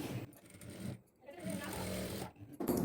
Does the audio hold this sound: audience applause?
no